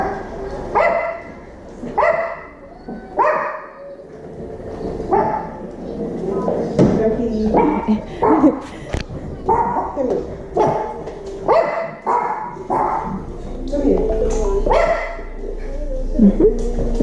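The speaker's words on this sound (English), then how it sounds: "Puppy." A puppy barks repeatedly close by in a house, sharp yapping barks in uneven bursts with occasional whimpers over about seventeen seconds.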